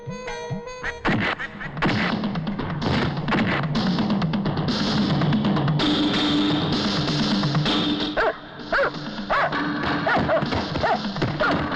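A dog barks repeatedly amid dense film soundtrack music and crashing effects, the barks loud and overlapping with the busy score.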